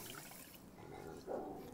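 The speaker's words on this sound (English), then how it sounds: "I put 1 cup of sticky rice and same amount of water." Water is poured into a pan holding one cup of sticky rice, a faint, soft trickle that swells slightly toward the end, with no speech.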